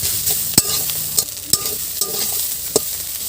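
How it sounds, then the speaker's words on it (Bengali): Mustard greens stirred and fried in a pan in a village kitchen, a soft continuous sizzle broken by several sharp scraping stir strokes at irregular intervals, close and alone. "এইভাবে আমরা শাকটাকে ভেজে নেব।"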